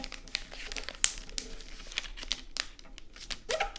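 Stiff paper being creased and folded into a kids' paper airplane, a run of close, crisp crinkles and rustles with one sharper snap near the start, no voices.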